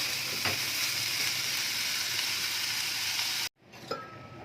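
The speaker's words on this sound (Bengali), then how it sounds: "এবার এগুলোকে একদম ভাজা ভাজা করে নেব।" Vegetables fry in a pan over a medium gas flame with a loud, steady sizzle, cutting off abruptly near the end before a few softer clinks and crackles follow.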